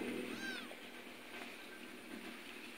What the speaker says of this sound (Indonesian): dan ini lagi kucing ngikutin terus.